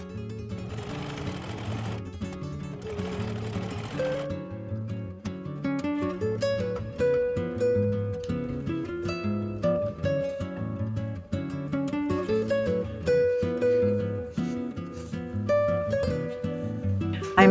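Sewing machine stitching the edges of tote bag handles made from a vintage kimono obi, running loud and close with a steady whirring drone and a fast, continuous rhythm throughout.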